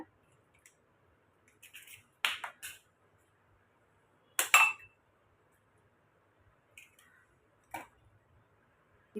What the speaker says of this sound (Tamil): இப்போ இதில் நான் ரெண்டு முட்டை எடுத்திருக்கேன் இதை ஒரு பவுலில் உடச்சி சேர்த்துக்கோங்க